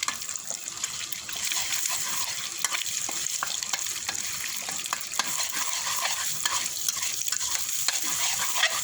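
Pumpkin and egg being stirred and fried in a pan: a continuous loud sizzle with frequent scraping and stirring clicks throughout, close up and with no talking.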